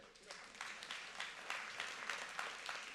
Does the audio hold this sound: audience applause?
yes